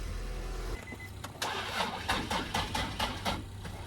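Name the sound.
Nissan 350z engine cranking and starting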